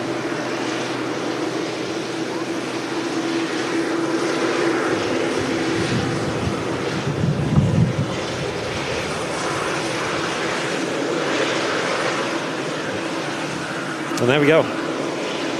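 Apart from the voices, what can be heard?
Saudi Boeing 787 airliner at Manchester Airport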